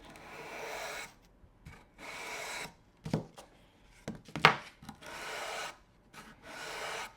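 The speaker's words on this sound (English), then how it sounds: "I'm just going to make a couple more passes with the sanding sheet here" Rhythmic rasping strokes of sandpaper rubbing back and forth on a racquet grip, several passes separated by brief pauses, close and fairly quiet.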